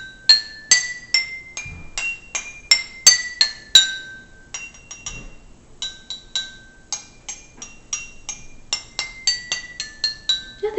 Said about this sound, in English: as you tap the cup, it'll give you the pitch that it is